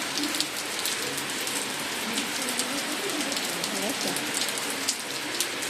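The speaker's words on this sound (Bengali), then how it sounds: "দেখো বন্ধুরা কি বৃষ্টি হচ্ছে" Heavy rain pours steadily during a stormy day, a dense continuous hiss of drops striking surfaces close by, with a faint voice murmuring underneath.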